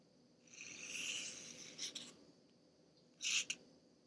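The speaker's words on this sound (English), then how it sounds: "This is how you write an uppercase J." Marker or pen scratching on paper while an uppercase letter J is written, a soft rubbing stroke followed by two brief sharper squeaks, faint and close in a quiet room.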